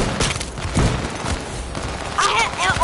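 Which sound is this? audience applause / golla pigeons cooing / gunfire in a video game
gunfire in a video game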